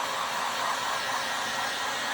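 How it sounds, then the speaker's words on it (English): A hair dryer blows with a steady, even rushing hum, constant throughout and fairly close. "you can use a hair dryer"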